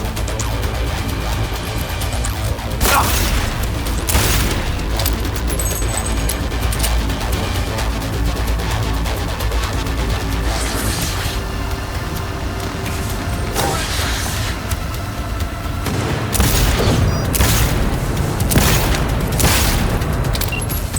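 Gunfire and explosions in the video game Cyberpunk 2077: a steady mechanical din with several loud, bursting blasts at intervals, the heaviest clustered near the end, and no talking.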